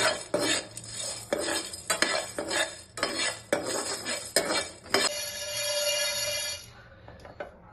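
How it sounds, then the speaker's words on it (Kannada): Chicken for a spicy chicken ghee roast is stirred while dry roasting in a pan over a low flame, with a utensil scraping and clinking against the pan in steady, repeated strokes, close and moderately loud. "ಲೋ ಫ್ಲೇಮ್ ಅಲ್ಲಿ ಇಟ್ಕೊಂಡು ಡ್ರೈ ರೋಸ್ಟ್ ಮಾಡ್ತಾ ಇದ್ದೀನಿ."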